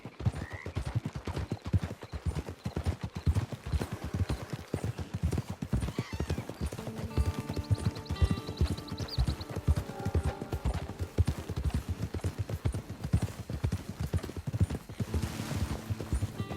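In the video game Red Dead Redemption 2, horse hooves clop in a steady trotting rhythm throughout, joined midway by a whinny and a soft tonal musical score beneath.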